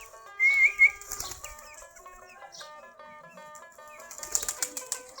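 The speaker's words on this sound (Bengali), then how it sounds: "আমাদের কবুতরগুলা খাবার খাচ্ছে এখন।" A flock of domestic Giribaz pigeons feeding on scattered rice, with sudden bursts of close wing-flapping near the start and again near the end over a quieter stretch of soft tonal calls.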